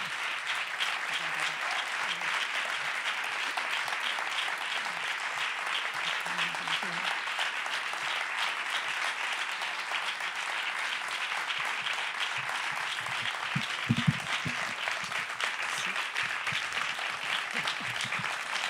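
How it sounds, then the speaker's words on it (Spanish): A seated audience gives sustained applause at an event, a steady wash of many hands clapping for nearly twenty seconds, with brief murmurs and a voice emerging faintly underneath. "la recibimos con un fuerte, fuerte aplauso"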